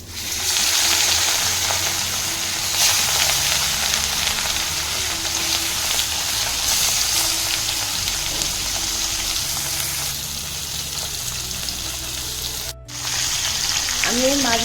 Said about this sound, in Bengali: আমি এই তেলেতেই সব মাছগুলো ভেজে নিচ্ছি